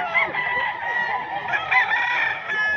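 A rooster, a cock offered at a gamefowl market in Bocaue, crows one long, loud, close cock-a-doodle-doo lasting nearly three seconds.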